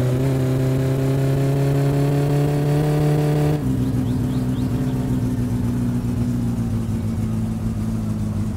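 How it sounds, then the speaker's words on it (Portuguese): Car engine in the My Summer Car driving game during a rally stage, a loud continuous droning hum that holds steady, then drops to a lower pitch after a gear change and keeps pulling evenly. "E o carro tá andando bem"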